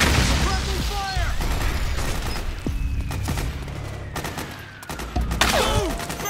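Gunfire in Metal Gear Solid 4: Guns of the Patriots, rapid bursts of shots and booming impacts layered over a dense, loud battle din, with voices shouting through it.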